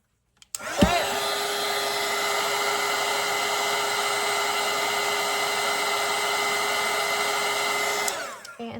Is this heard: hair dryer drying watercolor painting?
yes